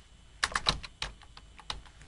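Typing on a computer keyboard, a short burst of close, quick clicking keystrokes with uneven spacing, no talking.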